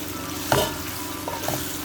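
Tofu and meatballs sizzle in hot oil for pancit canton, a continuous frying hiss broken by a couple of short stirring scrapes.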